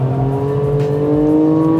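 A Porsche Macan GTS with all-wheel drive shifting down on its own while driven hard, a steady engine drone with a tonal whine under load and a brief blip, loud and close from inside the cabin, no talking.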